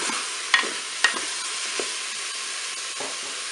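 Beef meatballs browning in a Cookeo multicooker give a steady, moderate sizzle, with a few soft clinks and scrapes of stirring near the start and no one talking.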